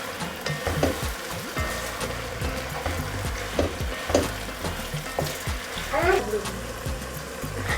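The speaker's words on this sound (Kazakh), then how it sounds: "Тағы да 5 минуттай қуырамыз." Tomatoes and vegetables frying for lagman give a steady close sizzle with stirring scrapes and clatter, while a voice speaks over the cooking throughout.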